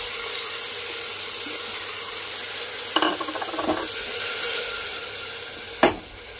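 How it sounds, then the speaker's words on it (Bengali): Washed red lentils sizzling in a pressure cooker with salt, a soft steady frying hiss broken by two brief scraping stirs as the cooker is shaken to mix, with no talking. "আমি কুকারটাকে নাড়িয়েই সব জিনিসগুলো মিক্স করে দিলাম"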